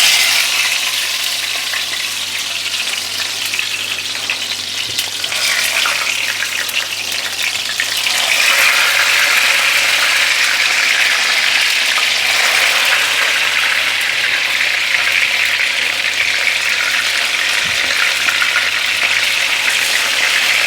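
Bitter gourds (karela) stuffed with mutton mince shallow-fry in oil, giving a loud, continuous sizzle and hiss close by that swells slightly partway through, with no one talking.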